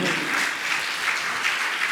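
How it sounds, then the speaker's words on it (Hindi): An audience at a Jain religious discourse in Gunayatan, Shikharji, Jharkhand, claps steadily for about two seconds, a dense, even wash of applause with no voices. "ताली तो बजाइए आप लोग।"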